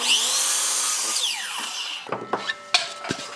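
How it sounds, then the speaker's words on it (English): A miter saw makes a 45-degree angle cut. A loud, high motor whine runs for about two seconds and winds down, followed by a few sharp clunks and knocks. "Now we're gonna take this one over to the miter saw, get a 45-degree angle cut on both of those sides."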